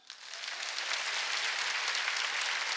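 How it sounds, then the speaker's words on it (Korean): A church congregation claps during a Korean Sunday worship service, applause swelling in quickly and holding as a dense, even roar with no talk over it. "여러분, 이치성 목사를 사랑하면 박수 좀 쳐보세요."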